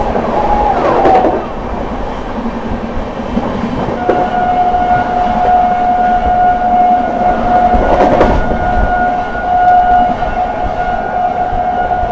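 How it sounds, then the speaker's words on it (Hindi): The Prayagraj–New Delhi Humsafar Express races through Etawah Junction with a loud, steady rush of wheels and carriages, and a long, sustained horn tone rises above the roar midway, with no voices. "इटावा जंक्शन, क्या बढ़िया रफ्तार में स्किप कर रही है अपनी प्रयागराज एक्सप्रेस"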